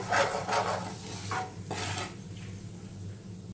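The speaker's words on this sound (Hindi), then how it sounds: "अब सभी चीज़ों को हम मिक्स कर लेंगे इस तरह से।" Mashed potato, salt and other bread pakora ingredients are stirred in a bowl, giving a few soft scraping and squishing strokes, close and fairly quiet, followed by a low background hum.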